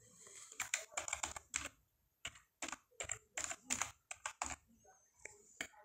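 Close computer keyboard typing in short bursts of quick clicks with brief pauses, while a file name is entered on a desktop computer in a quiet room, and no one talks.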